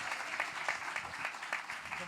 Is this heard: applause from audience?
yes